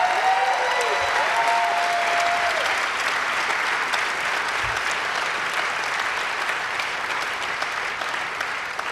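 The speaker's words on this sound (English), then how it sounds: "let's give her another massive round of applause" Large awards-ceremony audience at a restaurant gala giving sustained, loud, dense applause that carries on evenly throughout.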